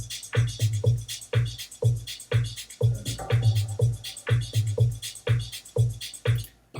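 A dance music track plays in a DJ mixing setting, with a steady, punchy kick-drum beat, a driving bassline and bright upper layers repeating at a brisk, even tempo throughout.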